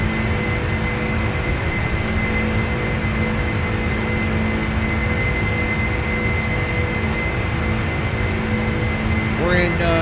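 Boeing 747-8 jet in a flight simulator game, a constant loud engine and cabin roar with a steady drone, with a brief voice near the end.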